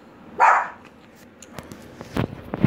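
Little dog: one sharp, close bark, then quieter shuffling and a couple of soft thumps and yips as it moves about.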